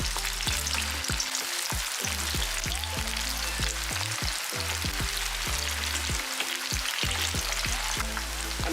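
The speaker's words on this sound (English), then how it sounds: "I'm going to fry the chicken in 2 batches." Chicken deep-frying in hot oil in a pan gives off a steady, dense sizzle with constant crackling and popping, heard close and alone at an even level throughout.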